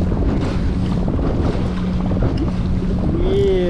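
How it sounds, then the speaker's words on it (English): Strong wind buffets a fishing kayak on open water with two motors running at full speed, a loud steady roar of gusts and engine drone mixed with choppy waves, continuous throughout. "Heavy wind hitting us over here. Two motors going at a maximum speed."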